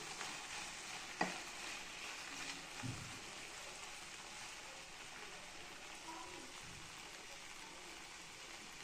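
Okra sautéed in an open, uncovered pan with steady frying sizzle and occasional soft stirring scrapes and knocks, close by and fairly even throughout, with no talk.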